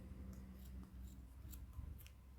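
Scissors snip through fabric for a Barbie doll's beach bag, giving a few faint, close cutting clicks in quiet surroundings.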